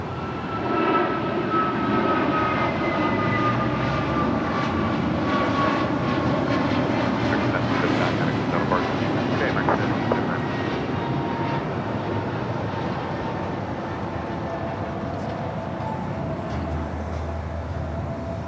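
Jet airliner departing from LAX on the north side, a loud, sustained engine roar with whining tonal layers that stays strong throughout and tapers slightly toward the end.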